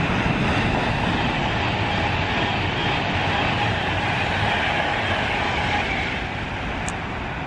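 A Virgin passenger train passes through Milton Keynes station with a continuous loud, close rushing roar of wheels and rails that holds steady, easing only slightly near the end, with no voices.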